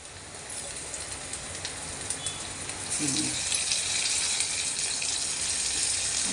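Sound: tomatoes sizzling as they are sautéed in a pan

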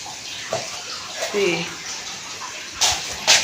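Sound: water running from a tap

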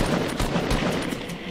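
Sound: gunfire shooting at an enemy in a video game

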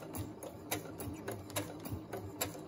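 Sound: sewing machine stitching through paper

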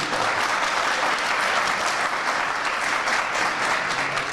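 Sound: audience applause at a political iftar gathering

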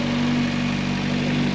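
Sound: tuned car engine idling around 1000 rpm

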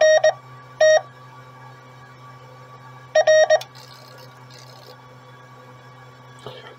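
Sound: relays chattering in ATU-100 automatic antenna tuner

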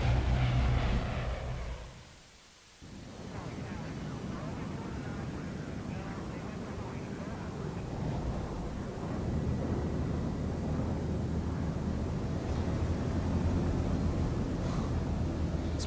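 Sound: airplane interior engine drone in Splinter Cell: Blacklist video game

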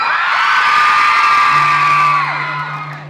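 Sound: crowd cheering at the name David Archuleta

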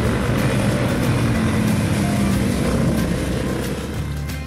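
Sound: Honda CBR500R / CBR300R motorcycles riding on race track

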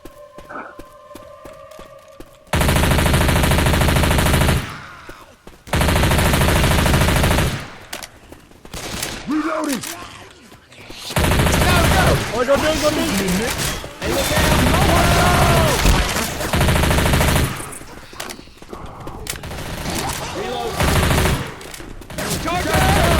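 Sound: gunfire in the video game Left 4 Dead 2

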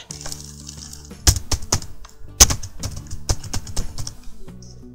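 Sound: typing a new Wi-Fi password on a computer keyboard

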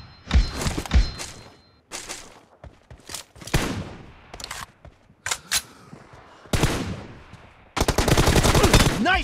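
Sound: gunfire in a video game team deathmatch

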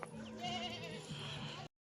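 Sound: goat bleating

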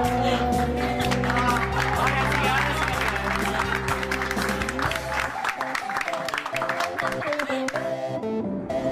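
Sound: audience applauding at end of show

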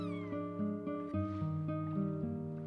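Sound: cat meowing in Chrono Cross video game

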